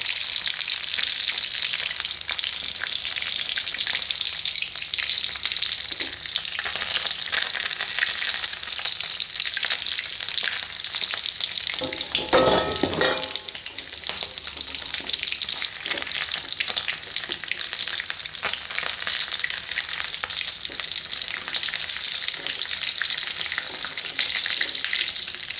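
Chicken skin frying in a pan to render oil, pressed down repeatedly as it cooks: a dense, continuous close sizzle and crackle throughout, with a louder burst of spatter midway.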